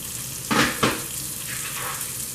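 Shrimp hit a hot pan with two quick loud bursts of sizzle, then settle into a steady frying hiss.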